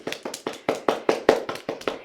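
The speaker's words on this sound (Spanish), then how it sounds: "Un aplauso para Viveiro Lugo." Steady rhythmic hand clapping for a guest from Viveiro, Lugo, on a Galician talk show: sharp, evenly spaced claps about five per second, close and clear, with no voices over them.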